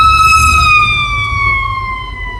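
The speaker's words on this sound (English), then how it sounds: "And here comes a fire truck." A fire truck siren sweeps past, loud and close, with its wailing pitch sliding steadily lower as the vehicle moves away, and no voices over it.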